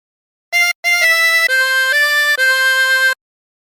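A harmonica plays the opening phrase of Happy Birthday to You with bent notes: six clear, sustained notes, alone and close.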